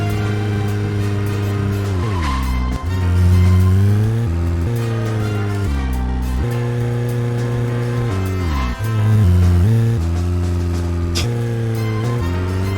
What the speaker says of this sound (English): The engine of the car sounds so freaking spastic